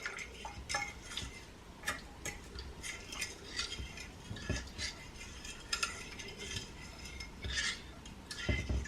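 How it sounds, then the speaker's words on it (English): A spoon scrapes and clinks around a pan while thin flour-and-water gravy is stirred, a steady series of close, light metallic taps and scrapes with no talking. "Okay, we're going to give this a nice stir."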